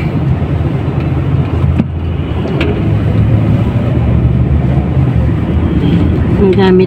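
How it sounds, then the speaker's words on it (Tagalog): A GMC car drives through Dubai, with a steady road rumble and engine drone throughout and people talking over it. "Ang gamit naming sasakyan is GMC"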